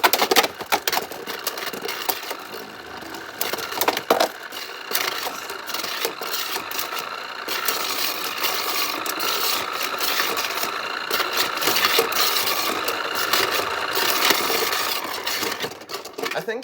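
Beyblades spin in a motorized Motor Strike stadium, the plate turning left-spin against a Helios top, giving a steady whirring, rattling grind with scraping clatter that runs continuously at close range.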